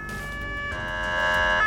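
Ambulance siren on a Volkswagen Crafter in the Emergency 4 video game, a steady electronic wail with tones rising in pitch, loud and close with no talk.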